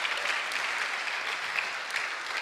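Steady applause from an audience at a Catholic medical and dental federation's national convention, dense even clapping filling the whole stretch with no pauses.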